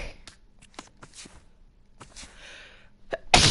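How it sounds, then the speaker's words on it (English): Sneeze straight into a close microphone, a sharp loud burst at the end after scattered breathy clicks, gasps and small mouth noises. "I forgot to move my mic away from my mouth when I sneezed."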